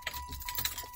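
A ring of keys jangles close by, bright metallic chinking in quick uneven bursts, with a faint steady tone and low traffic rumble behind it.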